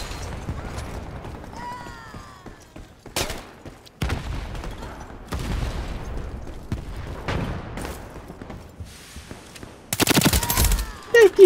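Rapid automatic bursts from a Code P90 submachine gun in the shooter game Ironsight, sharp rattling volleys spread across the clip alongside mechanical clicks, with someone talking intermittently in between.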